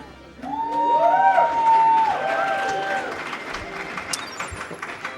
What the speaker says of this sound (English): So guys, let's take a vote. Who's cheering for Cheese?